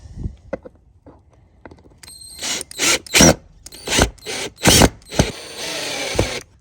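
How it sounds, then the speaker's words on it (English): A power drill drives screws into an SSR pit bike, with several short whirring bursts, loud and close, separated by soft clicks and handling noises. "And we just got to put our screws in here."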